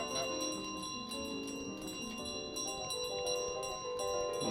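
A small bell carried in a goose's beak in Untitled Goose Game rings in repeated bright, sustained tones with soft clinking accents over a steady bed of game music, at moderate loudness throughout.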